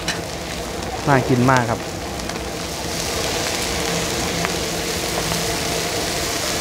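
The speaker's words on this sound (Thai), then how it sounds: "ตลาดในเมืองสุรินทร์หอยแมงภู่ทอดนะครับโอ้โหเนี่ยครับหอยแมงภู่ทอด" Mussels deep-fry in bubbling oil at a Thai night market in Surin, a steady loud sizzle throughout, with someone speaking briefly over it.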